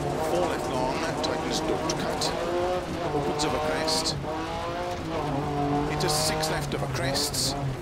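A Metro 6R4 rally car in Dirt Rally 2.0 drives on a punctured rear tyre, its engine droning loudly and steadily with pitch rising and falling through gear changes, tyre scrabble and skids breaking through, while a co-driver's voice talks over it.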